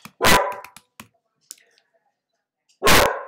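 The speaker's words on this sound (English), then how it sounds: "I apologize if my dogs bark." Dogs in a home craft room bark in two loud, close bursts, one early and one near the end, with scattered small clicks and knocks in the quiet stretch between.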